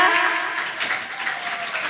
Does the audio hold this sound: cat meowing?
no